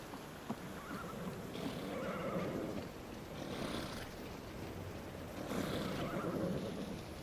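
Inside the VR game Skyrim, a horse lets out a whinny while its hooves clop, heard faintly against a hissing ambient background.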